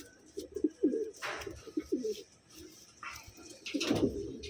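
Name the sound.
pigeons cooing and struggling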